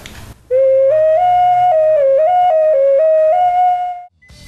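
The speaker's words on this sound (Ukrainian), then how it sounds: "Це ташечка, яку вручну зробили, в неї принцип свистка є." A handmade clay ceramic toy whistle blown in one long, loud, clear tone that steps up and down in pitch like a simple tune, heard alone.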